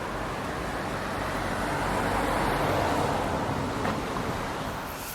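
Road traffic near a small river on a Basque country route, heard as a steady broad rush that swells and fades as a vehicle passes, with no voices.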